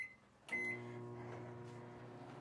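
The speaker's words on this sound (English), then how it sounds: "we just microwave it for 30 seconds" A microwave oven heating a small piece of food on paper starts with a click and short tone, then settles into a steady low electric hum that runs on quietly and close.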